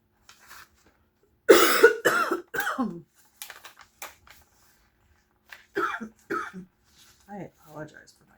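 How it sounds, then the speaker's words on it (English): Harsh, repeated coughing in close bursts, several loud coughs clustered together followed by a few softer ones, with throat-clearing sounds between them in a quiet indoor setting. "I apologize for my coughing, my goodness."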